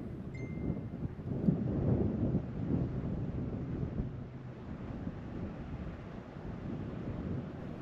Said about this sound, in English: Wind's kind of picking up.